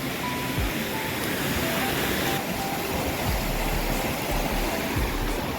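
Steady rushing flow of the Toklang Khola, a rocky river where friends are out fishing, continuous and broadband with low rumbling churn beneath a brighter hiss, close and unbroken throughout.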